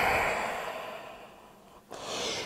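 A deep, slow exhale during yoga breathing fades away over nearly two seconds, followed by the soft start of a fresh breath, close and alone.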